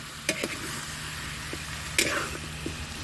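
Ingredients sautéing in a pan before tomato sauce goes in give a close, steady sizzle with a couple of sharp clanks from stirring, with no talking.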